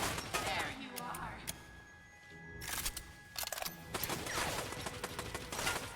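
Gunfire in the horror video game Bendy and the Dark Revival, several sharp broadband bursts scattered across the span with a sustained tone and game ambience, a voice talking between shots.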